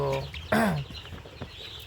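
A Sonali hen clucks and squawks up close in short bursts on a poultry farm, with a few softer clucks and faint farmyard noise after.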